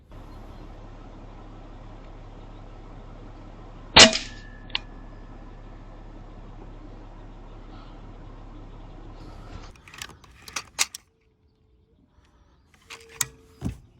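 A single sharp, close air rifle shot cracks out during outdoor rabbit pest control, followed by a brief ringing tone, low steady background hum, and a few scattered clicks and handling sounds later.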